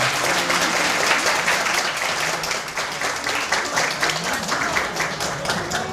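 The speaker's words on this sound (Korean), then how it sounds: "새롭게 태어난 이들 부부에게 큰 박수 한번 부탁드리겠습니다." Wedding guests applaud the newlyweds just after the marriage is declared, a dense, lively burst of many hands clapping that stays loud and sustained across the whole stretch, with scattered individual claps standing out.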